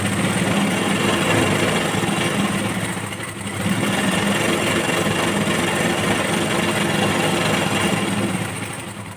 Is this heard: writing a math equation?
no